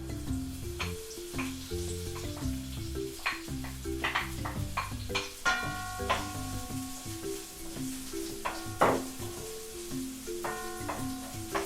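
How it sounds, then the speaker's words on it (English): Chopped onions stir-fried in a pan, a steady close sizzle with occasional stirring scrapes, heard alone with no talking. "just stir fry until they get a little bit golden, healthy light brown"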